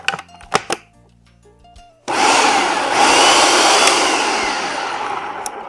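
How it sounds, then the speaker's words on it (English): Food processor whirring loudly and steadily for several seconds, mincing pecan pie crust ingredients with coconut oil, starting abruptly after a few short clicks and knocks. "now we're going to process the ingredients till they're finely minced like a graham cracker"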